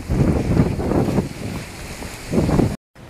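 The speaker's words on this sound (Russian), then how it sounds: "Ветроган какой." Strong wind buffets the microphone in a seaside area of southern Spain as a loud, continuous rumbling roar that swells in gusts and then cuts out briefly near the end.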